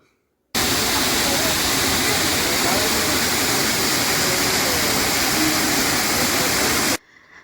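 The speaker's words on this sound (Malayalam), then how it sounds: "ഞങ്ങൾ മൂന്നാർ പോയിക്കൊണ്ടിരിക്കുമ്പോൾ ആദ്യം കണ്ട വെള്ളച്ചാട്ടത്തിൽ തന്നെ നിർത്തി" A roadside waterfall on the way to Munnar gives a loud, unbroken roar of rushing water, close and even. It starts and stops abruptly.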